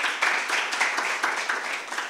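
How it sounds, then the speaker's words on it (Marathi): An audience claps in welcome for Professor Mukund Bharsakade at a Buddha Vandana reflection meeting and felicitation ceremony. The applause is steady and fairly close, with dense overlapping claps and rhythmic swells throughout, and no voices. "आपण सर्वांनी आदरणीय भारसाकडे सरांसाठी एकदा टाळ्या वाजवून त्यांचं स्वागत करावं"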